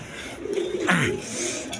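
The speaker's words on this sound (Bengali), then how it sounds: "এখানে এক পেয়ার জার্মান বিউটি কবুতর আছে" A pair of German Beauty pigeons coos softly at close range, a brief low throaty call rising and falling once amid light background noise.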